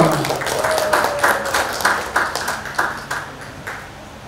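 At a school quiz competition final at Museum Penataran, a runner-up award announcement draws clapping in a steady, rhythmic series of distinct claps, moderately loud, with a thin sustained tone running faintly underneath early on.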